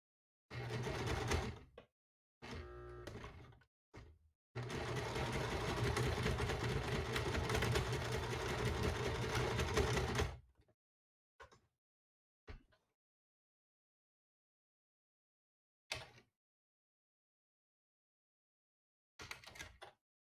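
Sewing machine running a long straight stitch on a bag, a steady mechanical whirr lasting several seconds after two shorter bursts, then a few isolated clicks and brief runs separated by long silences, close and alone.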